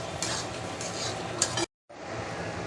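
A utensil stirs mashed vegetables for pav bhaji in a pan on the stove, a steady scraping and soft sizzling mix with a brief clink near the end, cut by a short silent gap.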